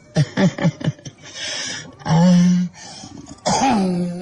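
A man coughs in a quick series of harsh bursts, then makes strained, drawn-out vocal sounds and throat noises, loud and close.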